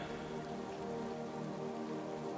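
Steady rain falls on surfaces along a woodland walk beneath large trees, a dense, even hiss of drops that stays constant and close with no voices.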